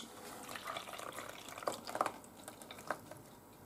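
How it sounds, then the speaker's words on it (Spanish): Milk poured by hand into a pan for homemade orange flan, a soft steady liquid trickle with a few brighter splashes and drips, close and fairly quiet. "ahora echamos la leche"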